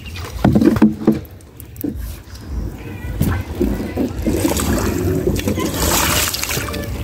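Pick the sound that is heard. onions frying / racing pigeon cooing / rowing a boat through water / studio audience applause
rowing a boat through water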